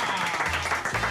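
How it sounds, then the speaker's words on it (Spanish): Brief applause for a girl at a mother's serenade with a cuatro trio, a dense burst of clapping that sounds close, with voices mixed in. "Un aplauso para la muchacha."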